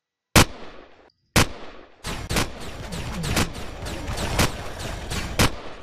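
Enemy gunfire in the sci-fi survival game Empyrion Galactic Survival: two sharp isolated shots, then a sustained rapid barrage of loud bursts and impacts, close and dense, with no talking.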